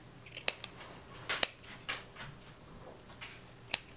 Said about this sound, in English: now we're gonna go along the edge again and cut all of these folded